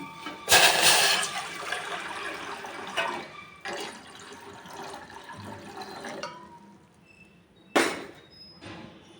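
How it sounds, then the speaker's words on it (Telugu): About a litre of water poured into a cooking pot on a stove, heard as a few gushing, splashing bursts separated by short pauses and quieter stretches, close up and with no talking. "ఒక లీటరు నీళ్ళు పోసుకుందాం వాటర్ పోసుకుందాం"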